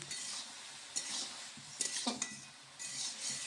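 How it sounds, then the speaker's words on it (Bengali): Bottle gourd with turmeric stirred in a pan, a soft steady scraping and clinking of a utensil with a few sharper knocks against the metal, close and fairly quiet, with no talk. "এবার সবগুলো একসঙ্গে ভালোভাবে মিশিয়ে নেবো"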